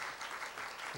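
A church congregation applauds for a scholarship recipient with a brief, dense wash of clapping at moderate distance.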